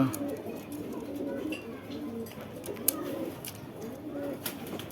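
Caged Pakistani Giribaz pigeons coo softly in low, repeated throaty calls at a bird market, with faint background clatter and no clear talk.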